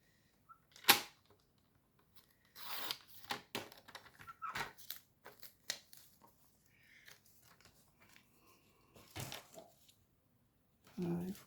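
Scissors snip through scrapbook paper in short scattered cuts and rustles, quiet and close, with gaps of near silence between bursts.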